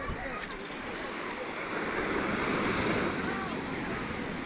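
Surf washes in steadily at Kovalam beach in Kerala, a broad continuous roar of breaking ocean waves that swells slightly midway, with wind buffeting and faint voices nearby.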